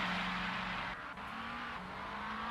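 A McLaren GT3 race car in Assetto Corsa Competizione at Imola holds a steady, droning engine note that climbs slightly in pitch, loud and continuous with a brief dip partway through and no talk.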